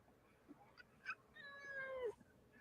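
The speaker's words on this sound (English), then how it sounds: "I just heard the feline." A cat meows in a few short calls, then gives one drawn-out, rising-and-falling meow near the end. The calls are fairly faint against a quiet background.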